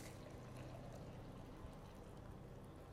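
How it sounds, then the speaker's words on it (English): Water poured over a bunch of fresh mint for tea, a steady, even splashing pour that runs unbroken for the whole stretch, close and fairly quiet with no voices. "I'm going to shove it in here. I'm going to pour my water in."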